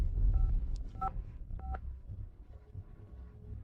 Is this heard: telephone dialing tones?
yes